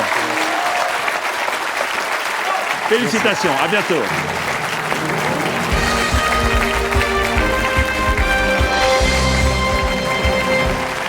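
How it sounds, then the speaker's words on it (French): Studio audience applauding on a TV quiz show, loud sustained clapping throughout, with the host speaking over it and music joining partway. "Et le public vous applaudit."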